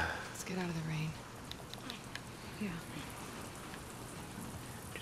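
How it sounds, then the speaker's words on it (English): Steady rain pours down in The Last of Us Part II, a dense, even patter filling the background while a voice speaks briefly near the start. "Let's get out of the rain."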